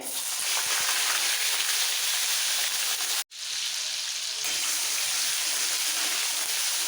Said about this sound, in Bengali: পেঁয়াজটা একটু ভেজে নিতে হবে হালকা কালার চেঞ্জ হওয়া পর্যন্ত